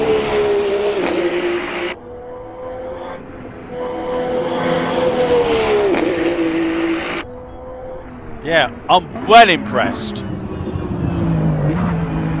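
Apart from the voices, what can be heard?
Ferrari 499P LMH race car engine in Assetto Corsa video game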